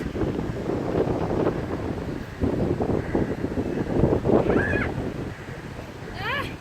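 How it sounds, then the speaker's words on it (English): Strong wind buffets the microphone in a constant low roar at the top of a lighthouse while a person talks over it; a few bird-like chirps break through near the end. "Yes, it's very windy, isn't it?"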